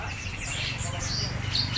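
Faint high chirps from a Foxy Rainbow bird, a caged songbird at a bird seller's stall, heard over a steady background hum.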